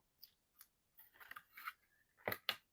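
Small scissors snip excess thread on a handmade mini album in several quiet, close, crisp cuts, spaced irregularly with a sharper double snip at the end.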